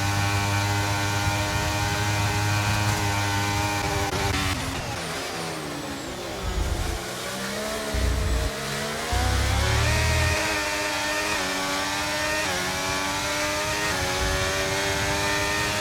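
Racing car engines drone and whine through a video game grand prix at Japan, a dense, continuous roar with pitch rising and falling as cars shift and pass, loud and sustained.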